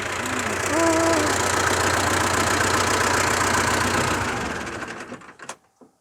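A misfiring tractor engine runs steadily and loudly for several seconds with an uneven, lumpy beat, then cuts out and sputters to a stop.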